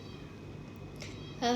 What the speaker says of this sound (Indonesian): Itu suara kucing. Iya emang ada kucing di depan guys.